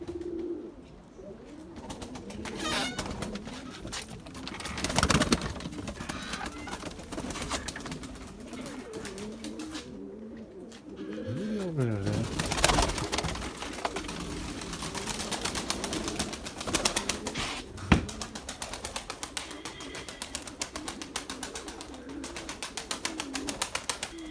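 White pigeons coo repeatedly in soft, rolling calls while young birds fly overhead, with occasional chirps and faint wing flutters outdoors.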